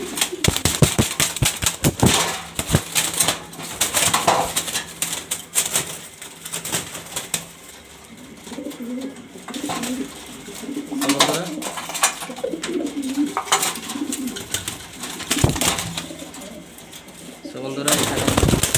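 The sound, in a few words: pigeons cooing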